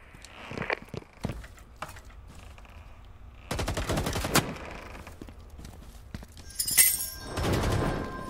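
Gunfire in the Firewall Zero Hour video game aimed at a motion sensor: scattered sharp shots early, then a dense rapid burst, followed by clattering impacts and a brief high electronic chirp.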